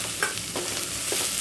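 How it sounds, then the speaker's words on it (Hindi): Chopped vegetables and the white part of green onion stir-fry in a hot pan, giving a short burst of steady sizzling with a few quick scraping stirs of a spatula, free of speech. "सब सब्जियों को मैं एक मिनट के लिए भून लूंगी।"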